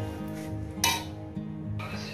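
Tomato purée being stirred and sautéed in a pan, with a few clinks of a utensil against the metal over a low, steady background hum; brief and close.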